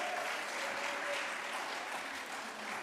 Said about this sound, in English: let's give her a loud round of applause